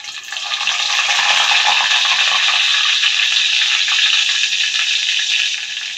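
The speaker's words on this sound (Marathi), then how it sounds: "त्याचा तडतड असा आवाज बंद होईपर्यंत हे कडवून घ्यायचं आहे" Water drops hit hot homemade buffalo-milk ghee in a pan and set off a loud, steady, close-up sizzling crackle that holds for several seconds with no talking.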